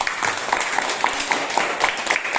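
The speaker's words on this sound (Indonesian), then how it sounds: "berikan tepuk tangan" A class of students claps for a few seconds as a steady patter of many hands in a classroom, fairly loud and close, with no talk over it.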